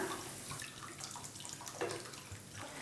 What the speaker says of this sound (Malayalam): ഇനി നമുക്കിതിലേക്ക് ആവശ്യത്തിനുള്ള വെള്ളം കൂടി ഒന്ന് ചേർത്ത് കൊടുക്കാം